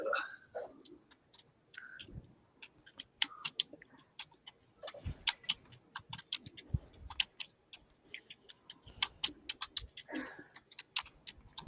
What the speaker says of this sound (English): y'all can hear my keyboard, I know.